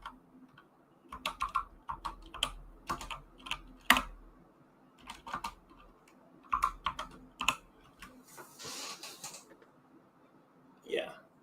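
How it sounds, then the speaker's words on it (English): Rapid bursts of typing on a computer keyboard, keys clicking in quick irregular runs with short pauses between, fairly close and moderately loud, with faint background noise and a brief rustle near the end. "I'm just typing that in to make sure that's right."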